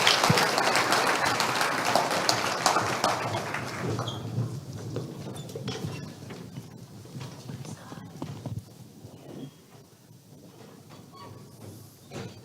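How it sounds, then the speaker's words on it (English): Dense clapping from a TEDx audience, loud at first and gradually thinning out over several seconds, with scattered claps lingering and a murmur underneath. "So one more round of applause, please."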